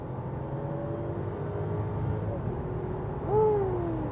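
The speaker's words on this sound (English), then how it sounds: "let's have one more acceleration in the sports mode from 90 kilometers an hour when we're already at speed" A Mercedes S-Class S500 or Porsche Panamera 4S Executive LWB luxury car accelerates in sports mode from 90 km/h, a steady in-cabin engine hum and road rumble with a rising whine near the end, under faint talk.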